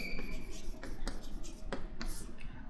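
Chalk or marker strokes scratch across a board during a mathematics logic lesson, a series of short scraping taps and swipes at close range over a steady room hum.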